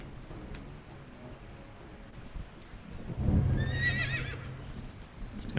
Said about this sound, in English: We'll do the horse sound.